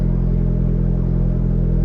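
A built turbocharged Honda Civic D16 engine revs under boost with the throttle feathered, a loud, steady, close-up drone with a dense low rumble and a rough mechanical edge throughout.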